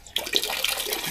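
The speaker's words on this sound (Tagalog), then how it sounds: "Malakas din yung tubig dito." A tap in a campsite restroom gushes strongly after a brief quiet start, a loud close hiss of running water with spattering on a basin, no talk.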